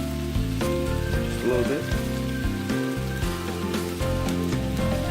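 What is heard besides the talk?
seasonings sizzling and popping in the pan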